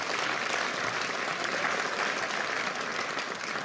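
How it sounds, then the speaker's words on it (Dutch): An audience at a radio comedy final claps loudly and steadily throughout, a dense, even wash of applause with no voices over it. "geef ze een applaus."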